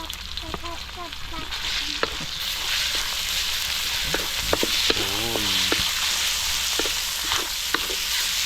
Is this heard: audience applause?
no